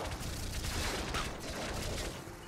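Swarm minigun in the game Nuclear Throne Ultra Mod firing a rapid, dense stream of shots, a continuous crackling barrage heard fairly quietly for a couple of seconds.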